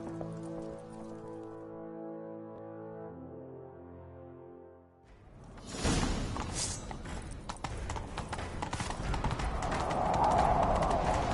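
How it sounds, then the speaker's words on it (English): A horse gallops with rapid hoofbeats amid rushing, rain-like noise, following several seconds of sustained musical tones, in the video game The Witcher 3. "Grab a horse, we'll chase him down."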